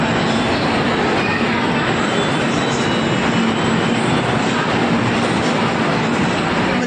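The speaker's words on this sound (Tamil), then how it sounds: "ட்ரெயின் நம்ம தண்டவாளத்துக்கு வந்துட்டுருக்கு." A train pulls in alongside a station platform, its steady, loud, broadband roar and rumble filling the whole stretch without letting up, with no talk audible over it.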